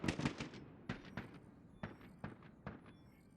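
Rapid bursts of gunfire in the video game Quantum League during a 1v1 championship match, a string of sharp, bright shots in irregular clusters, loud and close with no talk over them.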